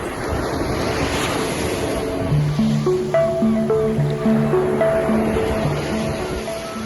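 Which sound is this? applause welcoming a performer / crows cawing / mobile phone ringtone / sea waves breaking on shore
sea waves breaking on shore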